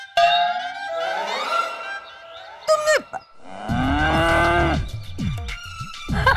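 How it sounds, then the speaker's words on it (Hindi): A buffalo moos in a drawn-out, wavering bellow, followed by more loud, harmonic lowing calls with short breaks between them, close and prominent. "मम्मी जी ने कहा था भैंस को कीचड़ पसंद है"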